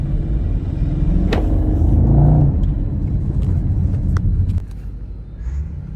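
Car engine with its muffler removed, a loud, steady rumble that swells into a rev around the middle and then settles to a lower idle, recorded close by.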